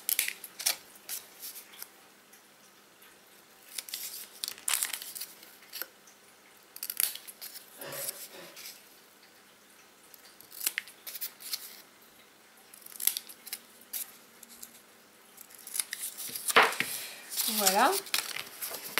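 Scissors cut paper at an angle for a Christmas mini album in short, crisp snips and rustles spread across the stretch, near and fairly quiet, with paper crinkling and a soft voice in between.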